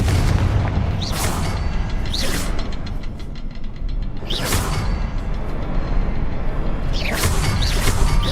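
Confringo blasting curse explosions in Hogwarts Legacy gameplay, several loud booming blasts with crackling bursts, spaced about a second or two apart over constant rumbling game noise.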